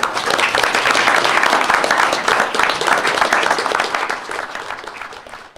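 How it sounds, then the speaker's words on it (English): A roomful of people claps steadily at a school district board meeting, honoring students who spoke; the dense, close applause holds for several seconds and fades slightly at the end. "A round of applause."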